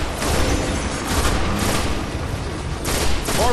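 Gunfire in the 2013 video game Destiny, a loud, dense fusillade of rapid shots and booms filling the whole moment, close and continuous.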